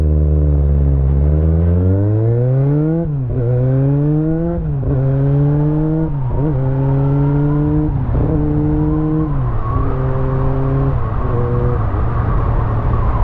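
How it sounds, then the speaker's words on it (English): A motorcycle engine running rough on fuel-starved carburettors, not firing on all cylinders, revved repeatedly in rising then dropping sweeps, loud and close, each rev climbing a bit less cleanly before falling back. "my bike's decided not to be working on all cylinders"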